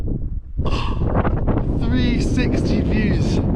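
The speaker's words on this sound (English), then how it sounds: "it's so windy" Strong wind at a 4,000-meter mountain summit in Kyrgyzstan buffets the microphone in loud, continuous gusts while a person speaks and shouts excitedly over it.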